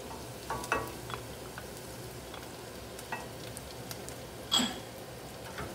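Ginger sweats in a hot pan with a soft, steady sizzle and frying crackle, broken by a few scraping stirs and light taps of a utensil; no one speaks.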